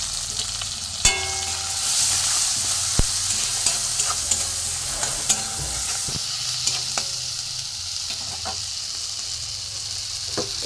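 Spices with grated ginger frying in a pan, a continuous sizzle broken by sharp clicks and scrapes of a spatula stirring against the metal, close and fairly loud, with no talking.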